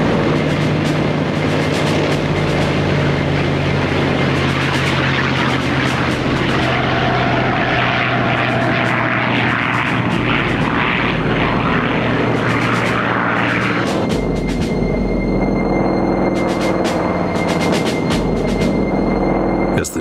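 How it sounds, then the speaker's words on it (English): Japanese World War II aircraft taking off, loud continuous propeller engine roar that swells and shifts in pitch as the planes pass, heavy and unbroken throughout. "the first wave of Japanese aircraft took off"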